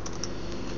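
Quiet, rapid keystrokes on a computer keyboard patter in a brief run of soft clicks at close range.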